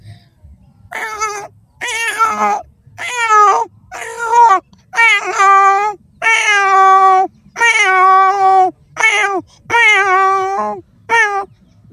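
A man imitates a cat, making about ten loud, close meows one after another with short pauses between, each a drawn-out, wavering cry.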